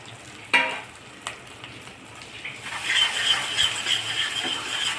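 Finely chopped coconut going into hot oil for a sprouted moong misal, a clank at first, then a rising, steady close sizzle that keeps up to the end.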